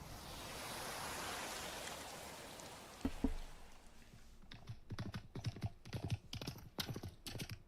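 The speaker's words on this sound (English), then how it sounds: "That was a horse." Distinct hoof clip-clops ring out in a quick uneven series, preceded by a soft rushing wash and a couple of isolated knocks, presented as an immersive 3D audio demo for the Nintendo Switch 2; no one speaks.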